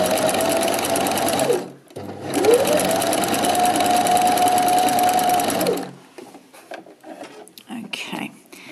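A sewing machine fitted with a walking foot stitches knit fabric in two steady, close runs separated by a short pause, then stops, leaving quiet fabric handling and faint rustling.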